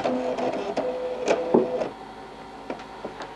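A printer starting up right after being switched on, a short series of mechanical whirs, clicks and knocks with a low hum, close and fairly loud, fading to quieter ticks at the end.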